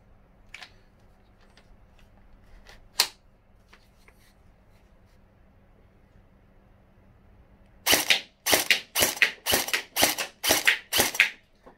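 HL-015 Honey Badger gel blaster firing gel balls, a rapid burst of about eight sharp, loud pops in quick succession near the end, after a couple of isolated clicks over quiet background.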